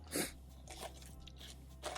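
Biting into a piece of cooked chicken meat: a few faint, close crunchy bites and chewing sounds spread over two seconds, with one sharper crunch at the start.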